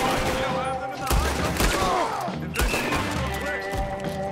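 Heavy gunfire fills a shootout in the video game Red Dead Redemption 2, with rapid overlapping shots and booming reports that keep going throughout, and voices can be heard faintly under the noise.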